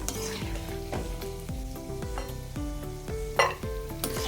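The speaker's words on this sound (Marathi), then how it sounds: "हे सर्व ड्रायफ्रूट आपल्याला मंद गॅसवर तळून घ्यायचे आहेत" Cashews and other dry fruits fry slowly in a pan over a low flame, giving a continuous close sizzle with light scraping and stirring knocks throughout.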